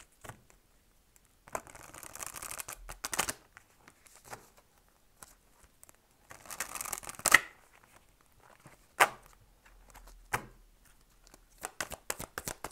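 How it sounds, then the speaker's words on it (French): Tarot oracle cards being drawn and shuffled in short separate bursts of papery slaps and riffles, close and intermittent with quiet gaps between. "avec le grand oracle de l'amour, je vais te prendre 5 cartes"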